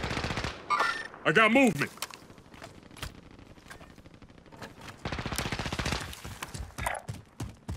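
Automatic fire from an M249 machine gun in the Modern Warfare video game, in loud rapid bursts mixed with footsteps and other game noise, while a player talks over the action.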